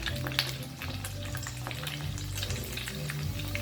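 Chicken lollipops frying over a low flame, a steady soft sizzle and crackle of hot oil with faint pops, continuous and fairly quiet with no talking.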